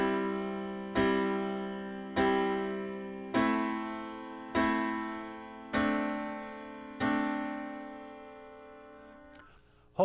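Six sustained piano chords struck as quarter notes at a steady, even pulse, each ringing out before the next, played alone at moderate volume.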